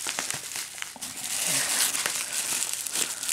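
Bubble wrap packaging from a diamond painting parcel crinkles and crackles steadily up close, loud and continuous throughout, with no talking.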